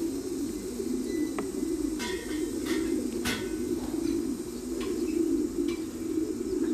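Pigeon cooing in a loft, a steady low rolling coo repeated throughout at close range, with a few faint chirps from other birds in the background.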